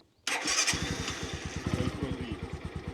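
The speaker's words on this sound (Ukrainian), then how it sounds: "В кума отакий от мотопед, дивіться, боксер." A small boxer-engine motorcycle starts abruptly after a moment of quiet and settles into a loud, close, steady chugging idle with a regular pulsing beat.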